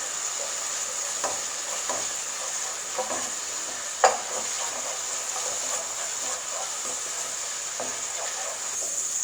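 Garlic and onions frying in a pan, a steady soft sizzle running throughout with a few clinks of stirring and one sharp tap near the middle.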